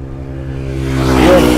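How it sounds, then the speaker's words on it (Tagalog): A car approaches and passes close by with a rising engine roar, over a low rumbling wind noise, recorded outdoors on a tiny BOYA mini wireless microphone. "Tapos nakakadagdag din sa ingay yung mga dumadaan na sasakyan."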